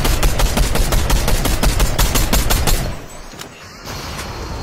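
Rapid enemy gunfire in Fortnite: a fast, loud, regular string of shots for about three seconds, then a quieter pause.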